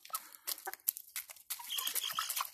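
Backyard hens pecking at mealworms give soft, scattered clucks and short squawks, close and fairly quiet, mixed with rustling and pecking noises.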